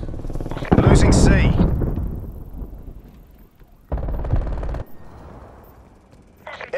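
Sentry turret machine-gun fire in Call of Duty Black Ops Cold War, a loud close burst of rapid automatic shots that decays, then a second shorter burst a few seconds later, with game announcer voice lines.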